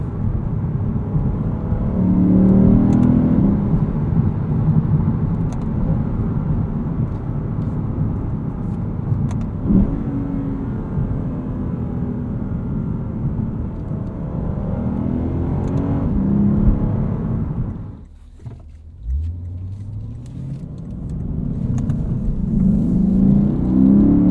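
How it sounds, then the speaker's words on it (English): A 2023 Lexus IS 500 F Sport Performance engine rumbles and revs repeatedly, rising and falling in pitch, dropping briefly to near quiet before surging loud again. "This is just a lovely, lovely engine."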